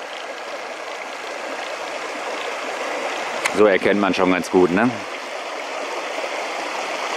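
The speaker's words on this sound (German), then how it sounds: "Und dadurch, dass das in diesen Stein fließt, hat auch das Wasser ja so schöne Muster." Steady rushing of a stream pouring over stone steps beside the Hennesee reservoir dam in the Sauerland, a continuous close wash of water, with a person speaking briefly over it midway.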